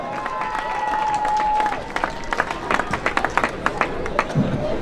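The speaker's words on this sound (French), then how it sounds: "on l'applaudit bien fort" An audience at an evening costume and mask contest awards ceremony bursts into applause, loud scattered clapping with cheering rising over a brief voice and crowd murmur.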